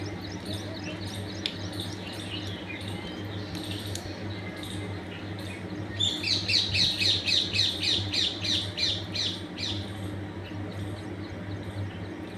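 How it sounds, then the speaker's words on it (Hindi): Many birds squawk and chirp from a peepal tree in a village, a busy chorus of repeated calls that swells louder in the second half over steady background hum. "यहाँ पास एक पीपल का पेड़ है, इस पर बहुत सारे पक्षी बैठे होते हैं। देखिए, आप खुद इनकी आवाज़ें सुनिए।"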